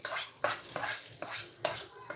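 A metal spoon scrapes and stirs peanuts and spices into chivda in a pan in four or five brisk strokes, close by, with brief pauses between them.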